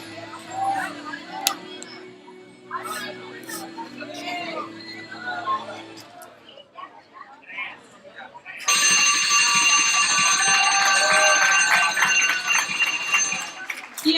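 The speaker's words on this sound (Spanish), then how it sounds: "Sonando el timbre, todos sentados." A school bell rings in a classroom. A loud, continuous electric ringing starts partway through and lasts several seconds, after a stretch where people are talking.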